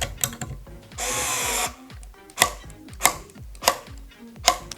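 A Milwaukee M4 D-202B cordless screwdriver gives a brief steady motor whir, followed by a run of sharp, evenly spaced clicking bursts, close and fairly loud with no voices.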